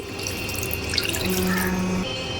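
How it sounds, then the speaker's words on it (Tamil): Water pours steadily into a cooking pot for chicken sukka, a soft continuous splashing trickle heard close up, with no voices. "இப்போது ஒரு 2 டம்ளர் தண்ணி ஊற்றி"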